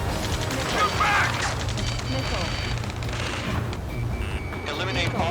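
Sustained gunfire in the combat video game Ace Combat 7, rapid bursts of shots over a rumbling battle din, with radio chatter and voices mixed in throughout.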